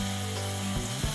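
Minced meat sizzles in olive oil in a pan, a loud steady frying hiss with a low hum underneath and a couple of brief stirring scrapes near the end.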